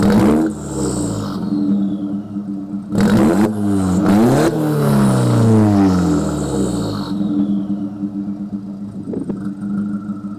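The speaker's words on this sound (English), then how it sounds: "If you guys can hear it, just rev it up a little bit, not too crazy." Turbocharged 1.8-litre engine of a 2003 Volkswagen GTI revved repeatedly, loud and close, with rising and falling sweeps that climb sharply then settle back toward idle, no talking over it.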